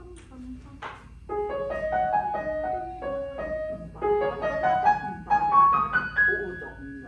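A single melodic line of piano notes played by the right hand alone in a piano masterclass, short and separate at first, then quicker and climbing higher.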